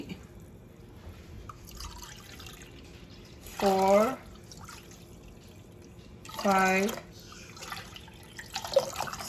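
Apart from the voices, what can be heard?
pouring water into a pot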